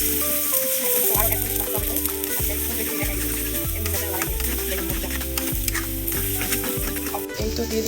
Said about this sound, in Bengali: নুডলসগুলো ভালোই সিদ্ধ হয়েছে। দিয়ে দিচ্ছি হচ্ছে সয়া সস।